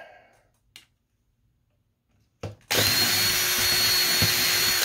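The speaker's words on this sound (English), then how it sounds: "drill that hole for that one" A power drill boring a hole in a mini keg Bluetooth speaker build, quiet after a couple of faint clicks and then a loud, steady whining drill run close by for the final two seconds.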